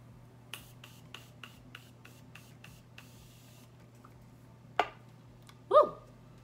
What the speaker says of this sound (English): I'm just about to spray my face.